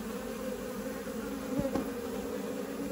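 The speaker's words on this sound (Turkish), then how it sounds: "Buna arı ağlaması denir arkadaşlar." Bees in a queenless hive fan their wings in a steady, droning hum, a close and continuous buzz with faint rustling and no voices.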